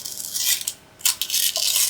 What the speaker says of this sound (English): And I'm just tearing, just like that.